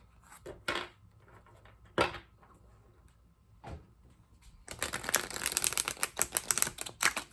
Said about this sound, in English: Let's see how this deck shuffles.